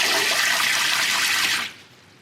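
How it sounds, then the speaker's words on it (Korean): Cold water gushes steadily from a shower head into a container partly filled with hot water, a loud continuous rushing splash that cuts off abruptly near the end, leaving quiet. "이제 샤워기로 이용해서 차가운 물을 꽉 채워주도록 하겠습니다."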